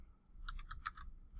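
Keys clicking on a computer keyboard as an email address is typed, a short burst of about half a dozen light, quick taps, close and fairly quiet against a low background hum.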